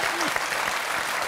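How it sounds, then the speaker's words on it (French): Studio audience of a French evening television show applauds, a dense, even patter of clapping filling the whole moment at steady loudness with a faint voice underneath. "Et qui Pierre Magique Tchernia, qu'on applaudit, mesdames, messieurs, qui était de nos côtés ce soir."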